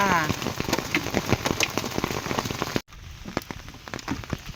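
Rain falling outdoors around a fish-trap outing, a continuous patter with sharp drop hits, a person speaking over it near the start, and a brief cut partway through.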